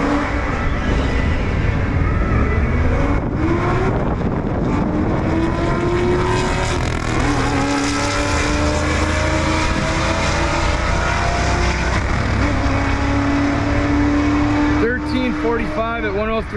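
A turbocharged Datsun 510 makes a drag strip pass, its engine roaring loud and steady throughout with rising gear-pull tones, nearby and continuous, with a rattling flutter near the end and voices talking underneath.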